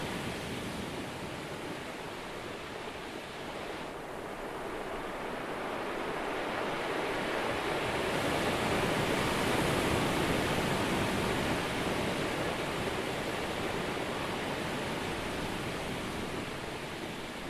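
Ocean waves roll onto a beach in a steady broad wash of surf that swells louder toward the middle and eases again, constant and enveloping, with a touch of wind and no voices.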